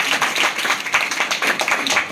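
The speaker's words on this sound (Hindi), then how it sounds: "इनके नाम पर भी जोरदार तालियां होना चाहिए।" A classroom of students clapping loudly for a student, dense overlapping hand claps in a continuous burst at close range, with no speech over it.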